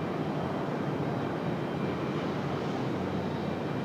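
A jet airliner rumbles in a steady, broad roar as it comes in to land at Raleigh Durham airport, with no voices over it.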